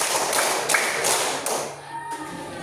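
Students in a classroom clap in unison through a counted rhythm pattern, several crisp group claps in a row, close and loud, then a brief trailing pause.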